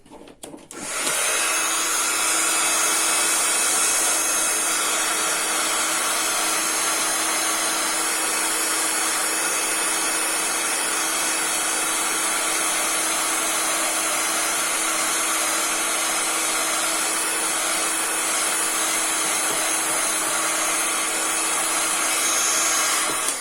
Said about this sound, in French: donc je vais chauffer ma poudre